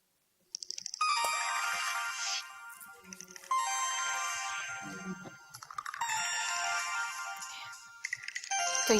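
A mobile phone ringtone in the TV drama Hassad plays in three repeated bursts of bright, chiming melody, close and clear, with short pauses between rings and no talk over it.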